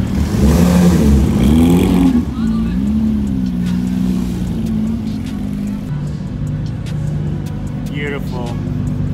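A Ferrari 458 Spider sports car engine roars nearby with a rising then wavering rev before settling into a steady drone, heard over crowd noise and talk at an outdoor supercar meet at Gulfstream Park.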